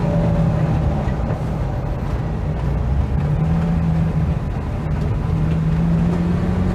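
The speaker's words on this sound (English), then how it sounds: "And here comes some of the cars leaving the Retro Rides gathering" Several older cars pull away from a retro car gathering, their engines a steady, loud rumble as they pass close by, heard from inside a moving 1975 Mitsubishi Colt 1400 Delica minibus without any talk.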